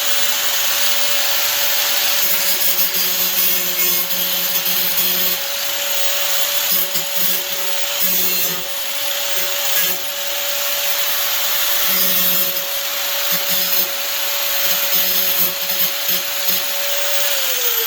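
A power tool whirs at a steady, constant pitch while grinding burrs off the metal frame of a Maax shower door, with rough scraping contact that comes and goes over the continuous motor drone.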